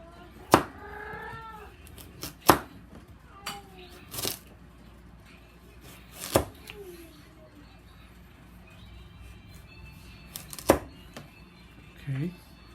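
A knife chops carrots into small pieces on a board in a home kitchen, making sparse, sharp, close thuds a few seconds apart. Quiet talking runs between the cuts.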